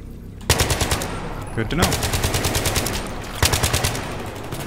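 Sustained automatic gunfire from Battlefield 3, mission Kaffarov, rattles in rapid bursts nearly throughout, loud and close, with a brief pause midway and a short spoken remark over the shooting.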